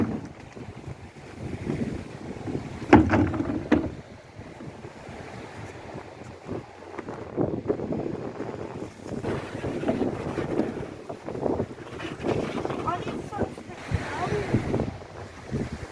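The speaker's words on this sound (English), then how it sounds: "I'm going to give the canoe a try" A canoe out on the sea at Opossum Bay, South Arm, Tasmania, with steady wash of waves and gusty wind buffeting the microphone throughout, no distinct paddle strokes standing out.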